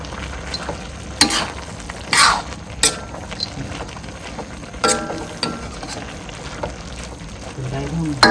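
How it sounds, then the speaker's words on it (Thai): Shallots fry in a pan for northern Thai pork larb khua, with a steady sizzle broken by sharp scrapes and clacks of stirring, while a voice talks over it. "หอมเจียวหอม เจียว"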